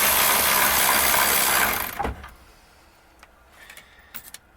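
A ratchet loosens a bolt holding a car heater blower; a dense rapid clicking runs for about two seconds, then stops, leaving a few faint scattered clicks and clunks.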